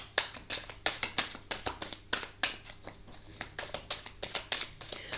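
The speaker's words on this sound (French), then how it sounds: "je fais un tirage à 9 cartes et s'il y a besoin" Tarot-style cards are shuffled and drawn for a nine-card spread, giving a close, rapid series of crisp riffling flicks and soft slaps in uneven bursts, with no speech over them.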